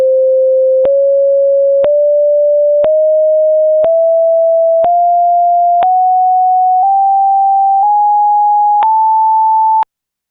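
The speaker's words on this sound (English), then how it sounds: "we've played every half step all the way through a complete octave from the A440 all the way up to A880" A steady pure sine tone climbs in half steps from A440 to A880, each pitch held about a second with a faint click at each change, loud and continuous, then cutting off abruptly.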